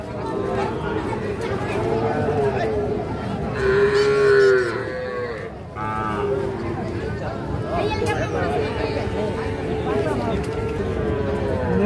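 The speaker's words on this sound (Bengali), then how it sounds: "শাহিওয়াল ষাঁড় বাছুর।" A six-month-old Sahiwal bull calf moos loudly and repeatedly at a busy livestock market, its low drawn-out calls rising over steady crowd chatter and bargaining voices.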